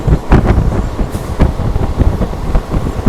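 A train speeds along at high speed, with a steady loud rumble and rhythmic clatter of wheels over the rails and rushing wind buffeting close by throughout.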